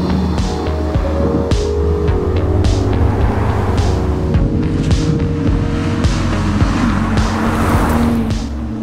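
Porsche Boxster driving, a steady close engine drone with road and tyre roar running continuously throughout, no voices.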